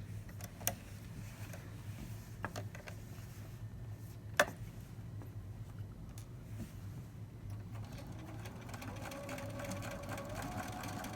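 Steady rhythmic whirr and clatter of a sewing machine stitching a drawstring backpack, running continuously up close with occasional sharp ticks and clicks, alone without talk.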